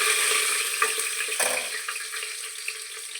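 Small peanuts frying in hot oil in a pan for bhaja khichuri, a steady close sizzle with faint crackles throughout.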